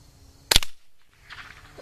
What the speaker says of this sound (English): Let me just waste all the bullets down. Let me shoot all the shells.